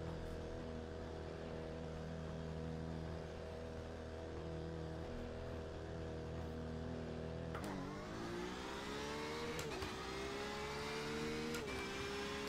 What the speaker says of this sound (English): Gonna get the car started, put it into second, and then still gonna get the car started.